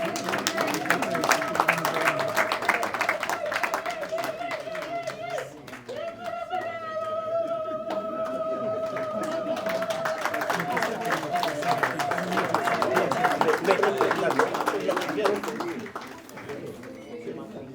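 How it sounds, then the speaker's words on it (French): At a July graduation ceremony the audience claps for a graduate named David, a long, continuous patter of many hands with sustained high vocal cries mixed in and crowd voices around. "David, on va applaudir David"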